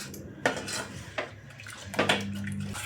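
Red pasta sauce with milk being stirred in a pan, with a few distinct scrapes and knocks of a utensil against the metal and softer clinks in between, close and alone with no talk.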